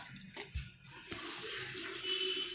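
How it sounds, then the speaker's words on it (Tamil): Ground coconut mixed with water poured into batter in a bowl close up, a sloppy liquid splashing and gurgling with a couple of soft splats. "இப்போ அரைச்ச தேங்காயை இதில் ஊற்றுறேன்"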